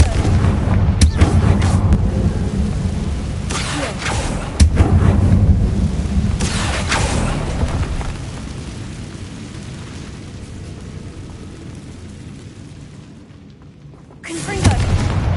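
Booming blasts of the Confringo spell in Hogwarts Legacy, several heavy explosions with rumbling tails over a continuous low roar, and a voice speaks amid the noise.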